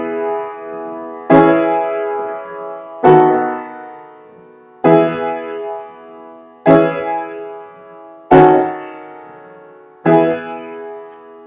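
Six sustained chords in a progression using half-diminished seventh chords, each struck firmly and left to ring and fade before the next, evenly spaced and played alone.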